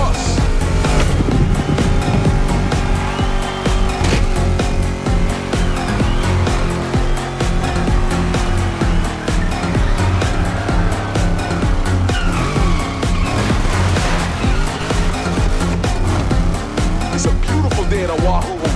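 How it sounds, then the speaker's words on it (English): Car engines in The Crew Motorfest, set in Oahu, Hawaii, during a donk versus lowrider race, rev and roar steadily and loudly with tire squeal and skidding, a continuous dense mix of engine noise throughout. "Let's hear these engines."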